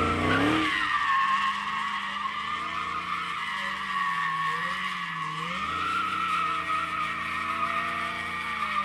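Race cars at the Roadkill Nights legal drag racing event in Michigan, loud engines roaring steadily with tire squeal and skidding throughout, close and continuous.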